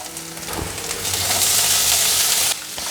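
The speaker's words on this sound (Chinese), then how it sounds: "把香菇炒香， 炒到香菇有微焦了，现在放入豆干" Shiitake mushrooms and dried tofu being stir-fried in a pan: a steady, fairly loud broadband sizzle that swells midway, with faint scraping of stirring, then drops a little near the end.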